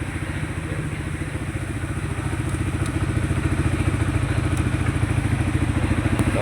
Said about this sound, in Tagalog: Ganda ng makina. Bagong bago.